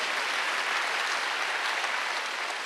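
Church congregation applauding during a Wednesday worship service, a dense, steady wash of many hands clapping at even loudness throughout, with no voices standing out.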